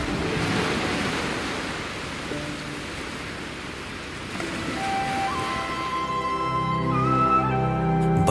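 Sea waves wash around an island in Lakshadweep, heard as a steady broadband rush of water and wind, with a rising tonal hum entering toward the end.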